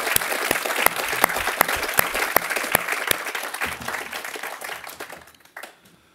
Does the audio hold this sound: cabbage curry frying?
no